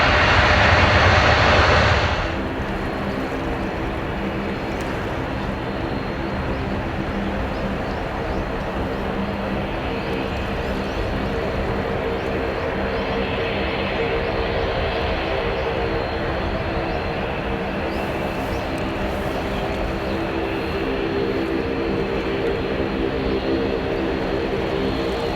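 A China Eastern Airbus A319-115 arriving at Niigata Airport in light winter rain, its jet engines a loud steady roar with tonal whine that holds throughout, under faint radio chatter.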